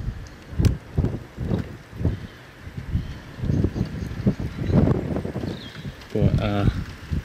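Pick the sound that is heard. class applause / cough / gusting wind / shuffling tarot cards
gusting wind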